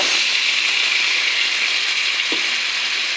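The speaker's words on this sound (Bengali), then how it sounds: "আমি গরম জল ঢেলে দেব" Hot water poured into a pan of vegetables cooking with duck eggs and cauliflower gives off a steady, loud steamy hiss and sizzle throughout, with a single faint knock near the end and no talking.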